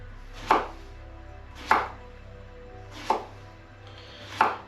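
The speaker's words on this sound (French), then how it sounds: "on prend une courgette, pardon, et on va couper en rondelles comme ceci." A knife slicing a courgette into rounds on a cutting board, four crisp evenly spaced chops, close and clear with no talk.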